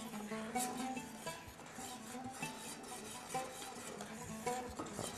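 A spoon scrapes and knocks against a pot in repeated, quiet strokes as semolina is stirred continuously while it boils in a Tunisian kitchen.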